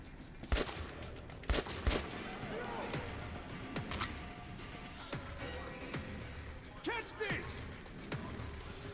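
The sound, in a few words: grenades exploding in video game Metro: Last Light Redux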